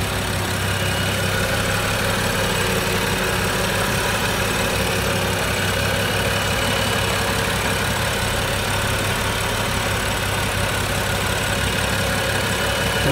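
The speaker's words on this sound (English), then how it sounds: "Now I'm just going to let the vehicle run and make sure the battery stays charged." BMW engine idling after its cooling system has been bled of trapped air, with a steady, continuous low rumble throughout, close and loud.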